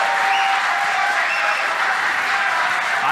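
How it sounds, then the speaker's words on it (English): A crowd at a professional pool match, a nine-ball Dreamchallenge between Shane Van Boening and Andrey Seroshtan, roars and applauds in a dense, loud, unbroken wash of clapping and cheering with no distinct voices. "I can barely hear you, Jeremy, inside all this roar from the crowd"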